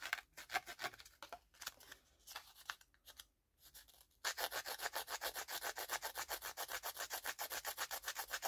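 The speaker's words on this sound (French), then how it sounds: "Est-ce que je peux le gratter avec ça?" A tool scratches across collage paper on a journal page, with irregular scraping strokes that give way to steady, rapid back-and-forth rubbing, close and fairly loud, with no talking.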